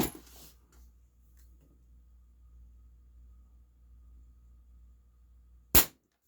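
A single sharp shot from a Daisy Powerline 822 .22 caliber air rifle near the end, a brief loud crack after a quiet stretch, with a short rustle at the start.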